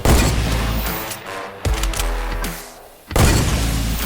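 Video game gunfire with heavy bursts of shots and booms, loud and close, then a short lull before another sharp volley near the end.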